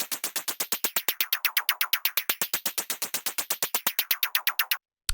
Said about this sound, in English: the first sound that we have up here is the Synth Hihat